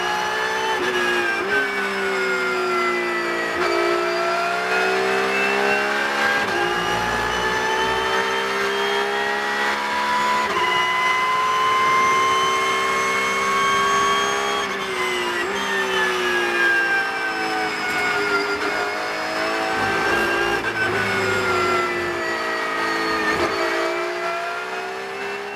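A Porsche Cup race car's engine howls through a qualifying lap at the Red Bull Ring, revving high and continuously with repeated upshifts and brief dips on braking, loud and close from onboard, with no talking.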